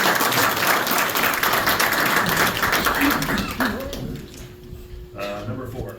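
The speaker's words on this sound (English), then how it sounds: "Give them a round of applause." An audience at a township trustees meeting in Ohio claps for two servicemen, loud, dense applause that lasts about four seconds, then fades into a quieter room with some low voices.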